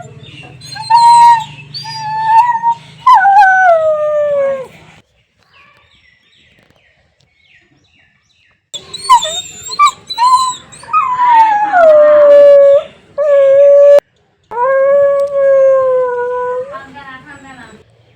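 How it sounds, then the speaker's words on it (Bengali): A mother dog grieving her dead pup howls and whimpers up close: long, wavering, mournful cries come in two loud bursts separated by a few seconds of near silence. "এই কুকুরটার বাচ্চা মারা গেছে 4 দিন হলো, এখনও এতটা কান্নাকাটি করছে"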